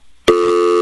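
A telephone tone cuts in sharply after a brief quiet moment on a radio show and holds as a loud, steady electronic hum to the end.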